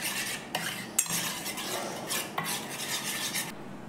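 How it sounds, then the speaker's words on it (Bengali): A spoon mixes spice masala into curd, giving a close, steady wet scraping and swishing against a bowl with a couple of sharp clinks, then stopping near the end. "এই মশলাটা একবার ভালো করে দইয়ের সাথে মিশিয়ে নিচ্ছি।"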